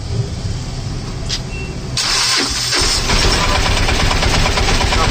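A Piaggio Ape BS6 auto rickshaw engine cranks and catches about two seconds in, then runs loud and steady close by as it is put into first gear, with no talk.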